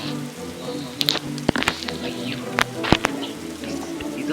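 Rain in the video game Roblox, a steady patter with scattered sharp drop-like ticks, moderately loud and close, with no talking over it.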